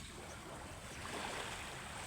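Sea waves wash and lap along a beach shore by Burias island, a steady broadband hiss and rush of water with faint wind, continuous and without talk.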